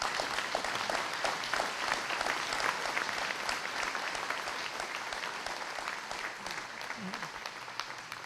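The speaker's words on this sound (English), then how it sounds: "Let's give them a big round of applause for the food." Dense, steady crowd applause fills a veterans hall of fame induction ceremony in Hamilton, honouring caterers and volunteers. Many hands clap close and loud without a break for about eight seconds, with faint voices underneath.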